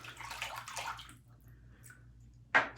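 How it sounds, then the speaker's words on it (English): Water runs briefly while a Zingariman Highlander safety razor is rinsed, a soft splashing rush that fades into near quiet before a sharp splash near the end. "Second pass is down, I'm gonna rinse"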